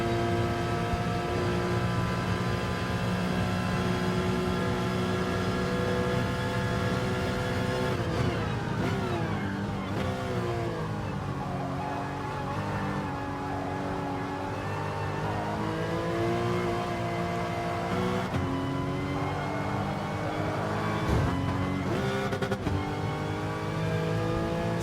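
Race car engines in a racing video game roar steadily, including an NSX, with layered high-pitched whines rising and falling through gear shifts, loud and continuous throughout.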